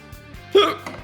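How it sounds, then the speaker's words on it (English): A single short hiccup from a streamer, a quick sharp burst partway through, over faint steady background tones and with no talking. "Oh my god, I have hiccups."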